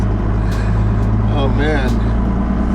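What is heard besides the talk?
1985 Dodge Ram Cummins prototype pickup truck being driven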